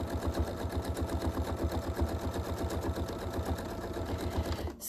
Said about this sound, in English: I'm just starting to sew around it.